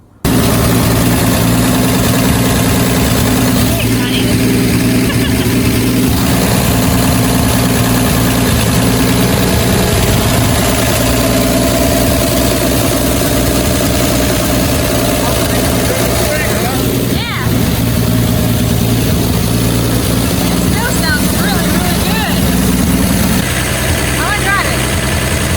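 An old Ford F100 truck, abandoned in a junkyard for decades, runs at a loud, steady, rumbling idle up close for the whole stretch, with people talking over the engine noise.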